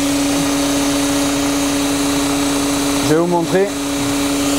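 An automatic transmission oil exchange machine runs on a Mercedes 320 CDI V6, giving a steady close hum with a constant tonal drone, while someone speaks briefly near the end.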